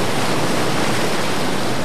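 Raging flood water from a Mother's Day flood, deep enough to swallow a travel trailer behind a Suburban, rushes in a loud, dense, continuous roar with no break and no voices.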